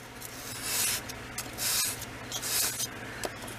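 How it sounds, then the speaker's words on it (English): A pocket knife blade drawn back and forth across sandpaper in a shop, giving repeated close, gritty rasping strokes about once a second over a low steady hum. "I've sharpened pocket knife for years with sandpaper because I never could use a whetstone."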